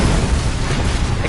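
A Confringo fire spell detonates in Hogwarts Legacy gameplay on PS5, a dense, sustained booming rumble that fills the whole moment loudly with no pause or clear separate hits.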